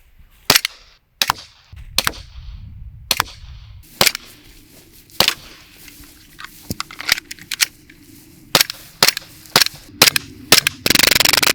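Glock BB pistol firing BBs into fruit, a series of sharp snapping pops spaced irregularly and then clustered faster near the end, close and crisp with quiet handling noise between shots.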